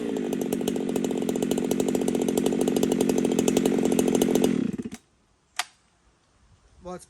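A chainsaw cuts steadily at close range, a loud, rough buzzing with fast chain chatter for about four and a half seconds. It then cuts off abruptly, leaving a sharp knock and faint handling noises.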